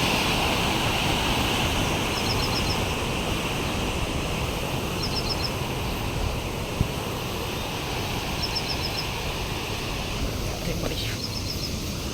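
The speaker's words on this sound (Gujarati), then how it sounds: "કેનાલમાંથી પાણી આવી રહ્યું છે અને આ ધોતીવાડા ડેમમાં જઈ રહ્યું છે" Narmada canal water pours into Dantiwada dam in a steady, loud, unbroken roar that fills the whole stretch, with faint bird chirps now and then above the rush.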